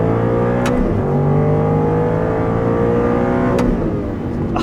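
Aston Martin V8 Vantage S engine revving loudly and close on a winding mountain road, a continuous rich V8 roar with rising and falling pitch and two quick gear-shift breaks, no talking.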